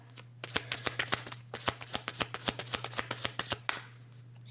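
A deck of tarot cards is riffled and shuffled in quick, crisp bursts of close flicks and snaps that run continuously for several seconds, then stop abruptly.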